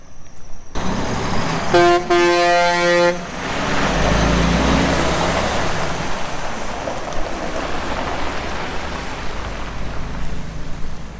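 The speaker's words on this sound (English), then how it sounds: "There goes truck number 1 of the day." A farm truck hauling soybeans in East Central Illinois sounds a short horn toot, then its engine rumbles loudly and steadily as it pulls away, with no voices.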